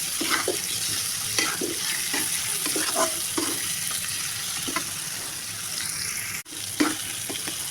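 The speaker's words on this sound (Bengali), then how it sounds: "আমার মাংসগুলো ভাজা হয়ে গেছে" Chicken pieces frying in a pan with green chillies and panch phoron spices, a steady close sizzle broken by scraping stirs at regular intervals, with one brief dropout near the end.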